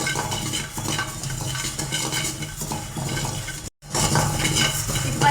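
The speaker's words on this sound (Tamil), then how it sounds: "சோம்பு நம்ம நல்லா வறுத்து எடுத்துடலாம்." Fennel seeds dry-roasting in a kadai, a close, continuous dry rustle and rattle of stirring with scraping against the metal pan, cut off by a brief silent gap before resuming.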